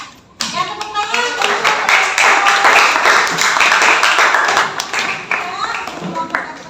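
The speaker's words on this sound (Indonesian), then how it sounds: "Ya, tepuk tangan." A class claps for a group presentation during classroom teaching practice: a sustained round of many hands after a sharp start, with young voices calling out over the applause before it thins toward the end.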